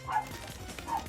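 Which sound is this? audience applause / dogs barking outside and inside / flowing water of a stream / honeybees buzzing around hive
dogs barking outside and inside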